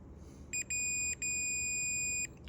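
An electronic continuity tester used on the oscillator band switch of a National HRO 500 HF receiver gives a short high beep, then a longer steady tone that breaks briefly and resumes, faint over low background hum.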